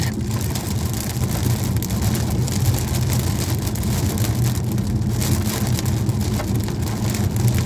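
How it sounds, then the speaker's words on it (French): Heavy rain pours down in the middle of a violent thunderstorm in Normandy, a dense, loud, unbroken hiss with low rumbling underneath and no voices. "On est dans le cœur de l'orage."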